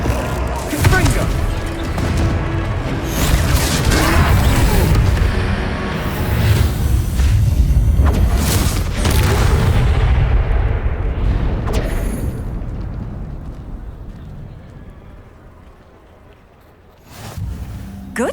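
A Confringo fire spell detonates in Hogwarts Legacy during a fight with trolls, booming and crashing amid dense, loud battle noise and shouting voices before the din fades out, ending in a sharp final hit.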